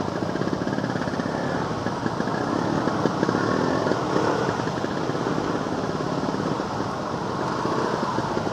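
Steady, droning small engine of a Vespa scooter in congested Bekasi–Jakarta traffic, a continuous buzzing hum at moderate loudness with no distinct events or talk.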